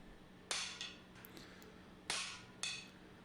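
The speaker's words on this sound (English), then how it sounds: "we're going to whack forge it" Hammer whacks while forging a hidden tang knife blade, four sharp bright metallic strikes in two pairs against a faint steady hum, recorded quietly at close range.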